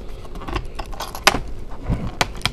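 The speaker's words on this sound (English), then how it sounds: "you want to try to pry the keyboard up gently" Plastic keyboard being pried off an Acer Aspire laptop, giving a series of sharp clicks and snaps spaced irregularly over a quiet background, close by with no talking.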